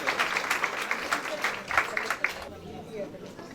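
A crowd applauds at an outdoor Diwali lights switch-on event in Derby, dense clapping for a group of child dancers that thins out toward the end, with some voices mixed in.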